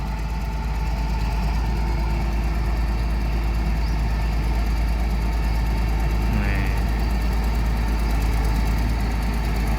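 A Mitsubishi MG 400 motor grader pushes soil while building a road around a cemetery, its diesel engine a steady, loud, low rumble with constant mechanical drone throughout.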